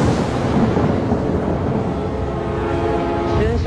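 Thunder rolls as a loud, continuous low rumble that fills the whole stretch without pause, with a faint tonal rise near the end.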